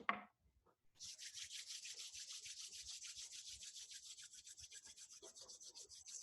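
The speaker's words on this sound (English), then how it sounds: "gently begin to rub your hands together in palming" Palms rubbed together briskly in a quiet room, a close, rhythmic back-and-forth swishing of skin on skin, steady and even after a brief soft sound at the start.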